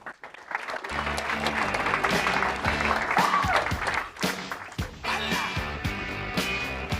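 A corporate event audience applauds as people come onto the stage, clapping spread across the room over a loud pulsing music track with steady bass beats.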